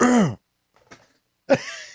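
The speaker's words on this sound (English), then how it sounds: "I had to clear my throat" A vocal groan, then a short rasping throat-clearing, followed by another strained vocal noise close to the mic.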